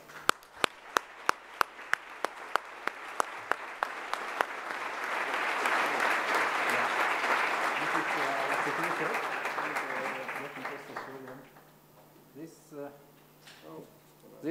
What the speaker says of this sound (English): Please join me in giving Dr. Marko Jagodich a big round of applause.